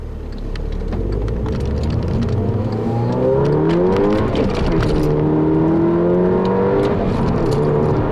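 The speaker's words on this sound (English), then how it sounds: "the worn out tires in here definitely contribute to a lot more road noise than the car is supposed to have" Steady road noise inside a moving 2010 Volkswagen GTI with a six-speed manual and worn tires, a broad tire roar with an engine hum rising and falling as it accelerates and shifts.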